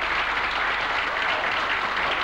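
Applause for a band at an Italian variety show, a dense, steady wash of many hands clapping at once, sustained and even throughout with no voices over it.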